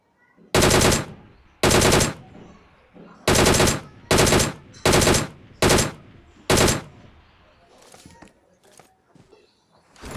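Video game gunfire in a battle royale match: seven loud, close bursts of automatic fire, each about half a second long and separated by short gaps, followed by quieter scattered clatter and faint movement.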